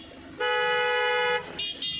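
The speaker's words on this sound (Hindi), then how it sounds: "हॉर्न मारो मैडम को" A single sustained car horn blast of about one second sounds close by during a driving lesson, followed by a couple of shorter, fainter toots.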